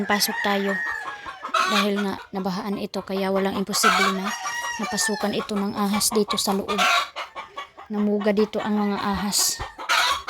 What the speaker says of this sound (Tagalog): Ayan ang ingay ng manok mga kaibigan